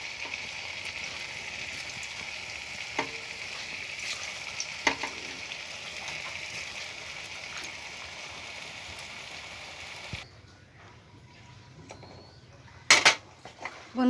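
Fuluri, Bengali fritters, frying in hot oil, giving a steady close hiss and crackle that stops abruptly near the end, followed by a few sharp clinks of a utensil against the pan.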